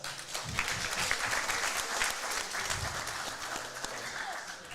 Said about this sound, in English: Everybody, round of applause for Hamza.